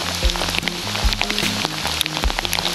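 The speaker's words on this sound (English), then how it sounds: "Hailing." Hail patters and ticks on surfaces during a bike ride up Mt Donna Buang, sharp irregular hits over a low rumble of wind and movement, fairly close and moderately loud, with no talk.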